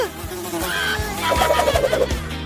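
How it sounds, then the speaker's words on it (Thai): A housefly buzzes close by in a steady, wavering hum over about two seconds, loudest in the second half, with some kitchen clatter and no talk. "มีแมลงวันอยู่ข้างในด้วย"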